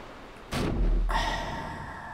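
A car in Grand Theft Auto V lands in water with a sudden loud splash burst, followed by a sustained rush of churning water that slowly fades.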